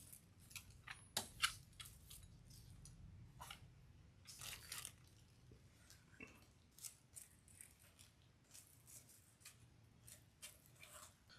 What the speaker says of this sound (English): Now we're gonna cut these about 20 inches.